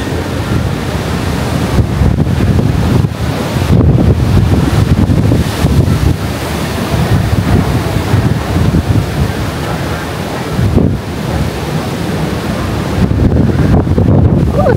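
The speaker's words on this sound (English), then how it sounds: "Oh, it's windy." Strong sea wind across the open deck of the cruise ship Norwegian Prima, a steady loud roar of buffeting gusts and microphone wind noise for the whole stretch, with rushing water beneath and no clear talk.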